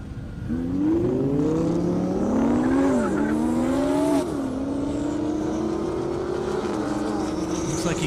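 A Lamborghini Huracan and a Dodge Hellcat drag race at an airport strip, roaring loudly and steadily as they accelerate. The engine pitch climbs in rising sweeps with brief dips at each gear shift, sustained for several seconds.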